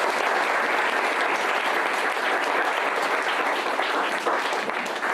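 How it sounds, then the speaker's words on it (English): Loud, sustained applause from an evening event audience, a thick continuous roar of clapping that stays even for several seconds with no speech over it. "But a round of applause,"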